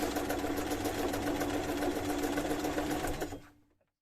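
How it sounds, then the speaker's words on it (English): A sewing machine stitches together a bag made from fabric scraps, its rapid, steady mechanical chatter continuing close up for about three seconds before it winds down and stops. "sewing half of her bag together"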